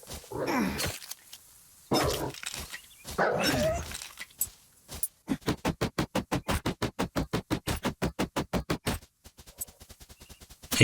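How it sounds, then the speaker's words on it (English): Dogs bark in the DYSMANTLE video game, a loud rapid run of many evenly spaced barks after some louder mixed game sounds, with a quieter pause and a few more barks at the end. "Doggies up there."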